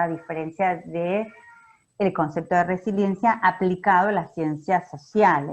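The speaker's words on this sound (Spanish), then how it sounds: "ese es mi gato que se escucha de fondo, ignórenlo, que está maullando." A domestic cat meows in the background, a brief faint cry that slips into a pause while a person keeps talking in Spanish over it.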